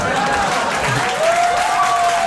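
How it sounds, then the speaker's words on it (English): Applause fills the room at a comedy show, a steady wash of audience clapping lasting a couple of seconds without pause. "y'all don't gotta clap"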